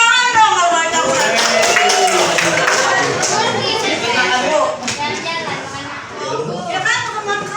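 An audience breaks into clapping, dense scattered hand claps filling the room for several seconds alongside overlapping chatter and voices.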